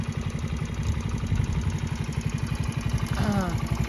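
A motorcycle engine idles close by with a steady, rapid chugging putter, while a brief voice cuts in near the end.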